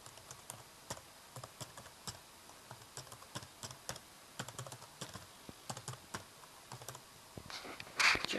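Keys tapped on a computer keyboard while a shell command is entered in a terminal during an Ubuntu setup, a quiet, uneven run of close, light clicks spread across the whole stretch.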